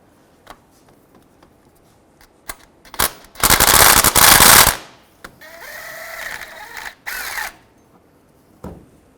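Impact wrench on a 2005-10 Volkswagen Jetta, loosening the drive belt tensioner bolt with a triple square M9 socket: two loud bursts of rattling hammering, the first longer, with light clinks of tools before and between.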